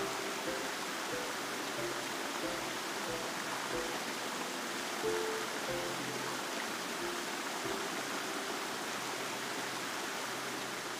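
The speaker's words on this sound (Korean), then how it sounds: "산중마을에 이르면 멀리 물소리가 들린다" Mountain stream rushing through a valley of Jirisan near a mountain village. A constant, even wash of flowing water plays alone with no voices, at moderate, steady loudness.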